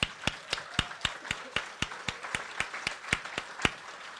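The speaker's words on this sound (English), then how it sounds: "So I want to give the GAC a round of applause." Single hands clap in a steady, evenly spaced rhythm, about four sharp claps per second, loud and close with nothing else in between.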